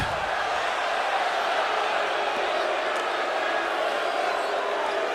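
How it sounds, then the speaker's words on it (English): In a college basketball arena during an ACC men's game, the crowd and student section keep up a steady, broad cheering roar with some scattered whoops, sustained at a moderate level throughout. "You can see the crowd is still here. You can hear that they're still here."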